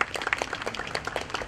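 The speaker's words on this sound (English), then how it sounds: "a huge round of applause for the next session" Audience applause for a speaker being welcomed on stage at a spiritual talk event, a steady patter of many hands clapping at moderate distance, fairly quiet and brief with no one speaking over it.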